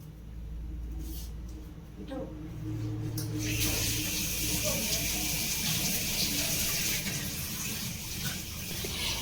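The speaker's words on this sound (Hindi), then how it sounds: "तो चलिए सबसे पहले इसको अच्छे से वॉश कर लेते हैं।" A tap turns on about three seconds in, and a steady stream of running water splashes over an aloe vera leaf being washed, close and continuous to the end.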